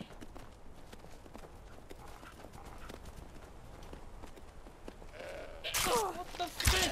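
Goat bleating in the Skyrim VR video game amid clopping hoof-like sounds, faint at first and then a louder burst of bleats and thuds near the end.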